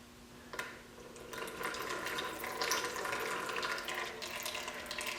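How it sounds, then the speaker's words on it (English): Oil draining from an air compressor during an oil change, a steady close trickle and splash of liquid pouring into a container, running continuously with no talking. "So I'm just going to let that drain without making a huge mess, because I don't want oil all over everything."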